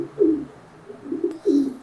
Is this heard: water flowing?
no